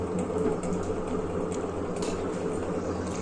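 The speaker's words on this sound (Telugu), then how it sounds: "డ్రై ఫ్రూట్స్ అన్ని వేయించుకోవాలి." Almonds and other dry fruits fry in ghee for carrot halwa, making a dense, steady bubbling sizzle. The sound is close and even, with faint clicks and no voices.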